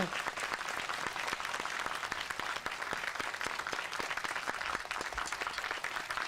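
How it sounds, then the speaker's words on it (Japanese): An audience at a Tokyo International Film Festival screening applauds the special guests, a dense, sustained round of clapping with sharp individual claps standing out, continuous and fairly close throughout. "どうぞお拍手でお待ちください"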